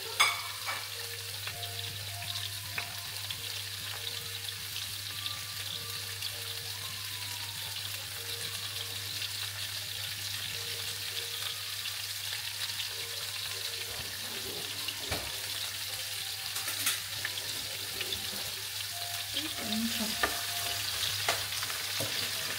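Medium-sized tomatoes and cashews fry in oil in a pan, a steady, even sizzling hiss that continues at a constant level, with occasional faint clicks of stirring.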